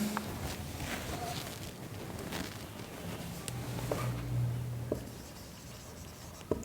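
Chalk or marker strokes on a classroom board during a maths lesson, a soft continuous scratching with short pauses and a few louder taps near the end, fairly close.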